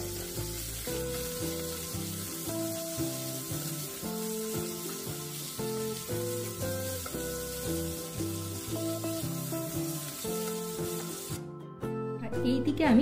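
Vegetables with salt and turmeric stirred in a pan for a Bengali dish, a soft continuous sizzle and scraping under steady background music, ending in a louder burst of clattering.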